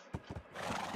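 A horse in Minecraft gives a short, sharp neigh just after a few quick hoof clops, close and clear, with no talking.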